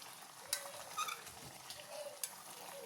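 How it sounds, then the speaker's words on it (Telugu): Gongura chicken curry being stirred in a pan, the oil risen to the top: faint, soft scraping strokes at a slow, uneven pace with light clinks, quiet and close, with no voices. "ఒకసారి అంతా బాగా మిక్స్ చేసుకుందాం"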